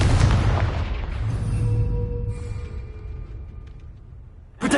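Confringo blasting spell in Hogwarts Legacy going off as a single loud, booming explosion with a long rumbling decay, then a sharp new burst at the very end.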